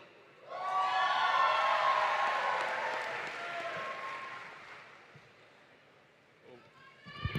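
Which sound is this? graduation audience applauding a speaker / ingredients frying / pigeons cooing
graduation audience applauding a speaker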